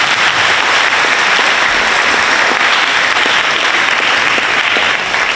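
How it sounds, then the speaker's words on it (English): Dense, loud applause from a school assembly audience honoring Martin Luther King Jr. fills the room as an even, continuous wash of many hands clapping from start to finish. "Give them all a round of applause, please."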